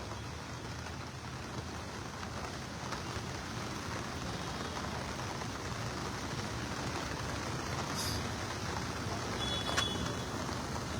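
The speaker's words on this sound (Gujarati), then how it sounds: "જે વરસાદ મન મૂકીને વરસી રહ્યો છે" Heavy rain pours over waist-deep floodwater in a Vadodara neighbourhood, a dense, unbroken hiss with no voices and only faint scattered clicks.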